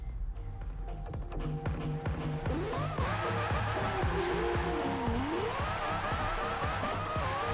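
A quad-rotor engine in an FD-based drift build screams close by in Forza Horizon 4. At first it pops and crackles, then it revs hard and rises and falls in pitch, with tires squealing throughout.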